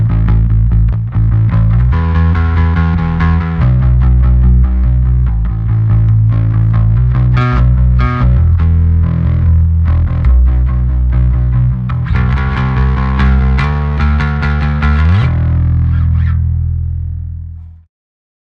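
Bass guitar with amp and DI channels blended under a master volume, a full, slightly driven bass line played steadily and alone, its last note sustaining and fading out.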